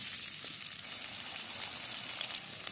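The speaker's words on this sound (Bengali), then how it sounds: "পেঁয়াজটাকে একটু ভাজা ভাজা করে নেব।" Chopped onion sizzles steadily in mustard oil in a wok, a dense, crackling hiss that holds at an even level throughout with small pops scattered through it.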